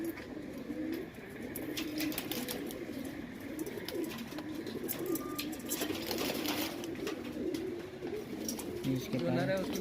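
Madrasi pigeons at an Ajmer, Rajasthan loft give steady low cooing throughout, mixed with other bird calls and clatter, with people talking in the background.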